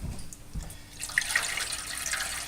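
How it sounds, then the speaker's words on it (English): Water is poured into a pan holding a whole stuffed chicken in a home kitchen, a steady soft splashing trickle that grows brighter midway, with no one speaking. "I'm going to put another 2 cups of water in, since the first 2 cups evaporated already."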